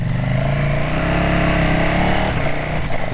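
A Gen 3 KTM 1290 Super Duke motorcycle engine revs loud and steady with a tuned quickshifter, its drone shifting pitch as gears change quickly near the end.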